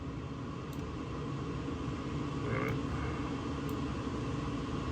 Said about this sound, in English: So sorry about the fan.